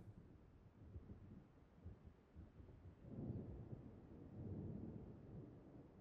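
Low, faint thunder rolls under a steady hiss of rain in a café during a storm, swelling midway with no voices.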